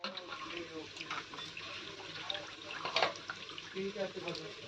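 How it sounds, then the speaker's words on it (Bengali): Drumstick flowers are rinsed under running water, a soft continuous splash and trickle with small surges, heard close and fairly quiet while someone talks over it. "ফুলগুলোকে ভালো করে জল দিয়ে ধুয়ে নেব"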